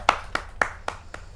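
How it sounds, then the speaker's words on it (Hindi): Five sharp hand claps ring out in quick, slightly uneven succession at a Hindi poetry gathering, close and fairly loud, too few for full crowd applause. "जोरदार ताली के साथ"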